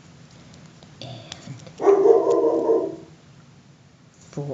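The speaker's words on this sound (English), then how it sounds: "you probably hear my dog outside protecting me from the evil kids" A dog barks outside while kids play in the street, a muffled burst of barking heard at a distance through the walls that rises for about a second and then fades, with faint sounds around it.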